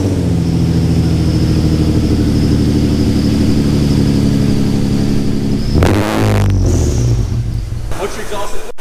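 An Infiniti G35 engine with a muffler delete and test pipes runs loud and steady with a deep exhaust drone, then revs up sharply near the end before settling back, with people talking over it.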